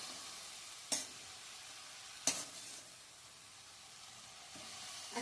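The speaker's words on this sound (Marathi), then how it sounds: "निवडली चिरली फोडणीला घातली की पालेभाजी पटकन होती." Chopped dill greens frying in a spiced oil tempering, a soft steady sizzle with two sharp stirring scrapes near the start and middle, close and quiet, no talking.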